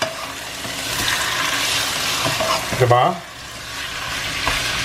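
Pork adobo in soy sauce and vinegar simmers with a soft, close bubbling hiss, broken near the middle by a brief burst of louder movement and a short spoken word.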